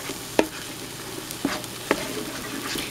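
Sausage pizza sauce simmers and sizzles gently in a pan at low level, with a few soft clinks or stirs standing out.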